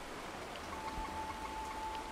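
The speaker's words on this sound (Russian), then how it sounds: "А, это дождик, я думал, кто-то шоркает" Rain in the video game Chernobylite, a soft steady patter of drops falling on surfaces, quiet and continuous with a faint thin tone running through.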